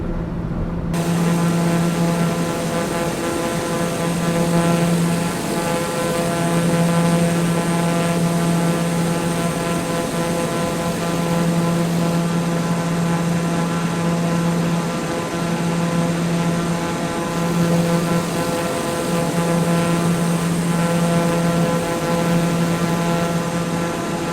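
A propeller airplane engine drones steadily in Flight Simulator 2020 during a flight over mountains, a loud, constant hum with a low pulsing tone throughout.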